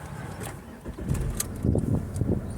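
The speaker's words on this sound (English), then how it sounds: "Start your engine" A car engine turns over and catches during a driving lesson, a low rumbling crank that settles into a rough idle, close by and fairly loud.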